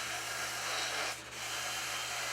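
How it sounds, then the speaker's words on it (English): A sander smoothing a cast aluminum Star Wars medallion gives a steady, close abrasive whir with one brief dip partway through and no voices. "The rest of it's going to be worked off on the sander."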